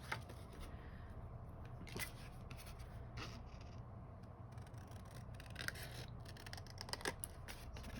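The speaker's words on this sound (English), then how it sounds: "we are going to cut off those little portions at the score line." Scissors snip away small portions of a folded paper card tab at the score line while a Christmas gift card pillow box is made, giving a few close, quiet cuts amid soft paper rustling with no talk.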